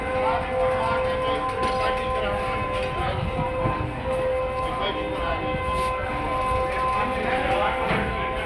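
An HGMU30 locomotive hauling the Rehman Baba Express at Karachi Cantt sounds a steady, thin-toned horn that holds one pitch for several seconds over train rumble, its whistle sounding weak and off.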